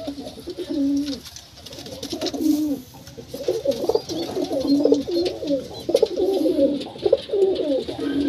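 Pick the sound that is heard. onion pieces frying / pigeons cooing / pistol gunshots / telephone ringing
pigeons cooing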